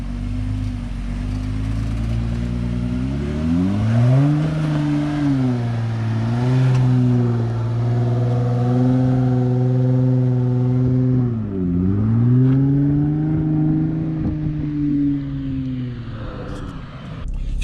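A 2020 Jeep Wrangler JLUR with a K&N exhaust is revved repeatedly, its engine note rising and falling in several sweeping pulls, loud and close with a throaty, droning tone.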